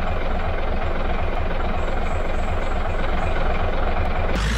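A combine harvester's engine in the off-road driving game Off Roading Epic gives a steady, loud, droning rumble that holds evenly throughout, with a brief rise in tone near the end.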